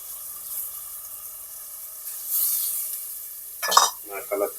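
Carrots and peas frying in a pan for pudina rice, stirred with a utensil: a faint sizzle underneath, then a few brief scraping, clinking stirs near the end.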